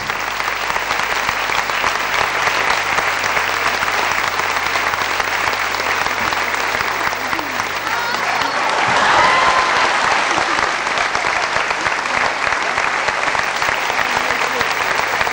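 Sustained, dense applause from a theatre audience at a 1990 stage show marking 75 years of a housing association: loud, continuous clapping from a large crowd lasting about fifteen seconds, swelling slightly midway.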